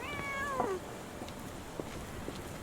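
One short, clear meow comes from a cat in the video game Sherlock Holmes The Awakened, heard early over a hissy, muffled game backdrop, followed by faint soft ambient sounds.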